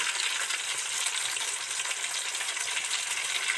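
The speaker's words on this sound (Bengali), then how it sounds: "আস্তে আস্তে ধরে ধরে ডিপ ফ্রাই করে ভাজবে থাকছি বন্ধুরা" Mango pakoras deep-fry in hot oil over a low flame, giving a steady, dense sizzling hiss that holds evenly throughout with no voices.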